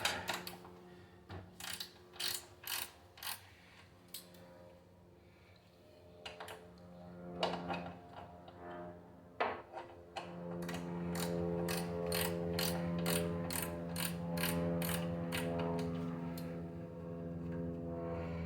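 A hand ratchet loosening 13mm frame bolts on an Indian Challenger motorcycle, with bursts of rapid clicking separated by pauses and then a longer sustained run of fast ratcheting.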